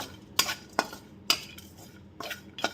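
Dry ginger stirred in a little oil in a pan, giving a few separate scraping clinks of a utensil, about five sharp strokes spaced unevenly over a quiet background.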